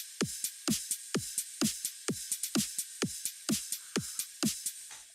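House beat built from a cymatics kick with a pitch-dropping thump, a dubstep snare, hi-hats and cymbals, locked in a steady four-on-the-floor groove of punchy, evenly spaced hits over bright, continuous top-end shimmer.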